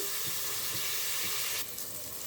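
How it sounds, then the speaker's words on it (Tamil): Onions sautéing in oil for tomato pongal, a steady close sizzle throughout that brightens and thins toward the end, with no talking. "வெங்காயம் நல்லா வதங்கட்டும்"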